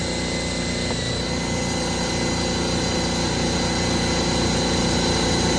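A DeWalt power tool runs off an Enernova ETA Ultra 2000W portable power station, giving a loud, steady, close motor drone with an even vibrating hum that holds throughout, and no voices.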